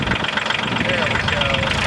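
A tractor engine idles with a steady low, knocking rumble, close and loud, with voices talking over it.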